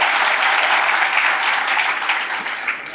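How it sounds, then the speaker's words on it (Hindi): Audience at a motivational session for exam aspirants clapping loudly and continuously, a dense close wash of applause that tapers slightly at the end. "तालियां बजा दें इनके लिए"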